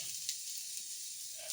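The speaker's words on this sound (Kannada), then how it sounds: "ಫ್ರೈ ಆಗ್ತಾಯಿದೆ, ಎಣ್ಣೆ ಹಾಕ್ಕೊಂಡು ಫ್ರೈ ಮಾಡಿ ಗೈಸ್." Mutton frying in oil, a faint steady hiss of sizzling fat with a couple of small crackles, quiet and even throughout.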